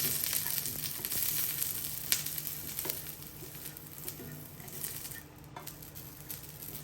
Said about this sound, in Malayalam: ഇനി നമുക്ക് ഒണിയൻ ഇതേപോലെ ഗ്രില്ല് ചെയ്തെടുക്കാം